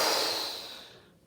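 A voice imitates the breathy huffing of someone straining at hard digging and building work, a single long exhaled puff that fades away.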